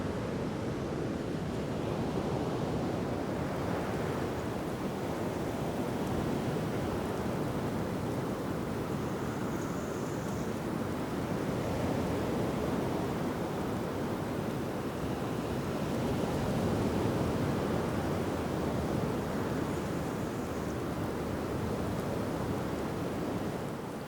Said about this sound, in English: I listened to the waves crash against the rugged coast below.